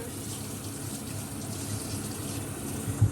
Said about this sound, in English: Rinse the excess off of this.